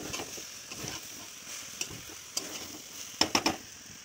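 Vegetables with stalks fry and sizzle in a pan as they are stirred, starting to stick to the bottom; a low crackle runs throughout, broken by scattered scrapes and taps of the spatula, with a closer cluster near the end.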